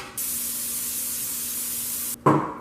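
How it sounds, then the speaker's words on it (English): A long, steady hiss of cooking spray from an aerosol can onto a bread pan, lasting about two seconds, followed by a brief clatter. "I'm gonna take my bread pan and I'm gonna spray the shit out of it"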